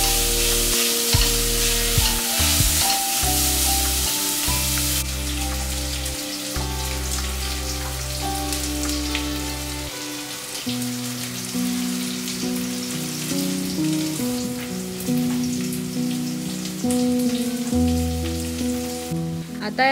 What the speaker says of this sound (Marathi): आणि मग यात ऍड करायची आलं लसूणची पेस्ट आणि यालाही छान कच्चा फ्लेवर जाईपर्यंत फ्राय करून घ्यायचं